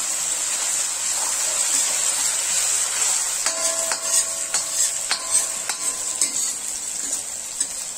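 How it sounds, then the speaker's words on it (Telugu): Onions frying in oil in a pan while paneer butter masala is cooked, a steady high hiss running throughout, with a few light metallic clinks of a utensil against the pan partway through. "చక్కగా ఉల్లిపాయలు ఈ ఆయిల్లో ఫ్రై అవ్వాలండి."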